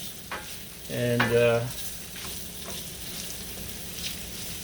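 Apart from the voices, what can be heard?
sausage searing in an enameled cast iron skillet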